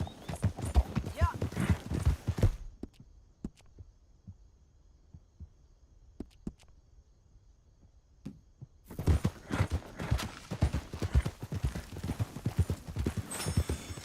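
Horse hooves clip-clop in the open-world game Red Dead Redemption 2, loud close rhythmic hoofbeats that stop for several seconds of near quiet with a few isolated thuds, then resume, with people talking over them.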